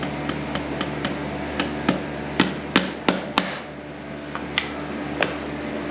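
A farrier's hammer drives nails into a horseshoe on a horse's hoof: a quick run of sharp metallic taps, then several spaced louder blows and a few final strikes, close and ringing over a low background hum.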